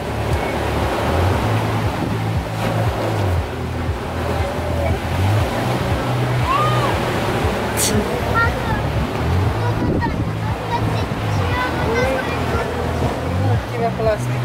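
Steady sea surf washing along a beach, a continuous broadband roar with wind buffeting the microphone and a low engine-like hum underneath, no voices clearly heard.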